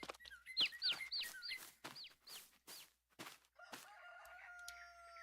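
In the Farming Simulator 22 farming game, chickens cluck in quick repeated bursts while a rooster crows, followed by a steady mechanical hum.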